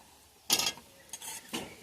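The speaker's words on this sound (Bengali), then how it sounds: "এবার আমি চিকেনটা দিয়ে দেবো এর মধ্যে।" Fried chicken pieces dropped into a pan of chowmein, a few quick clatters and soft scrapes of a utensil against the pan with faint sizzling underneath, no talk.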